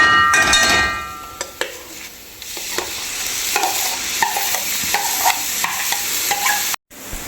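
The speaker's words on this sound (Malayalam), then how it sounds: "എന്നിട്ട് നമുക്ക് ഈ തേങ്ങയായിട്ടൊന്ന് യോജിപ്പിക്കുന്നുണ്ട്." Cooked, blended beetroot mixed with coconut in a pan for beetroot pachadi, with a close, busy run of spoon scrapes and stirring clatter over a soft sizzle, ending abruptly in a brief silence.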